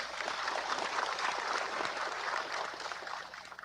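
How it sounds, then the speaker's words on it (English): An audience at the opening ceremony of the National Toshaos Council Conference claps steadily, a dense, even patter of many hands held at moderate, somewhat distant level throughout. "Give ourselves a round of applause."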